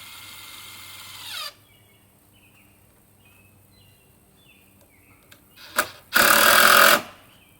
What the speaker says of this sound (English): I'm going to use 3-inch decking screws to hold these in place.